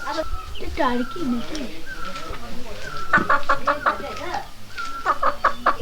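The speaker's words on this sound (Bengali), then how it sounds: "এই দেখুন এখানকার যে মুরগি" Chickens cluck in quick, repeated bursts close by, with rising squawks mixed in, over a background of outdoor chatter in the village of Sillery Gaon.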